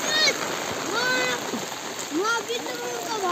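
Steady rain hisses at the Lumbini cable car in Butwal, a broad wash of falling water running through the whole stretch while children and adults talk and call out over it.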